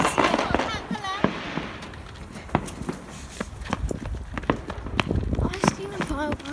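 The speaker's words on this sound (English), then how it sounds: "So many fireworks." Fireworks crack and pop at night during bonfire night celebrations on a street, with sharp explosions and whistling rockets near and far, while people talk throughout.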